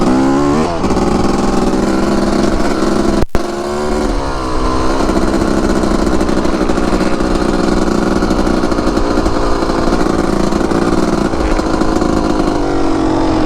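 Dirt bike engine running steadily and loud throughout, a motocross or enduro machine holding a continuous buzzing drone, with one abrupt brief cutout early on before the engine note resumes and carries on.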